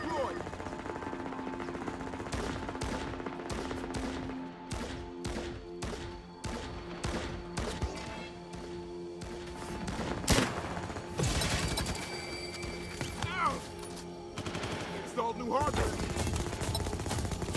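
Automated turret in the video game Firefall fires rapid bursts of gunfire, dense and continuous, mixed with mechanical clatter and other weapon shots throughout.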